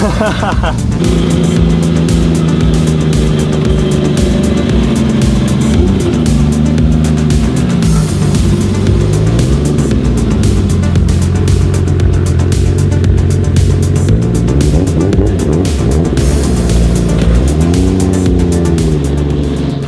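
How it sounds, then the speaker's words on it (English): A 700 hp paddle-shift Nissan Skyline R33 GTR engine revs and accelerates loudly and continuously, pitch climbing and dropping through gear changes, with people talking over it. "I wish everybody could experience a 700 horsepower paddle shift Skyline."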